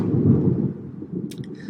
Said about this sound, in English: big clap of thunder as the world ends